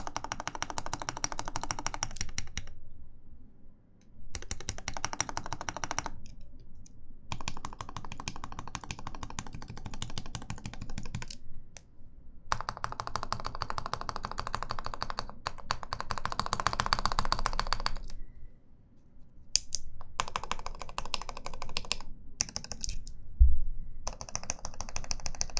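A custom keyboard built with SOHO switches is typed on in rapid bursts of close clacking keystrokes, broken by brief silent pauses, with no voices over it.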